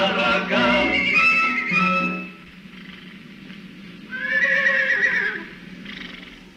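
Cartoon horse neighing and whinnying in bright, squealing bursts, one long call up front, then a quieter second whinny after a pause, with no talk over it.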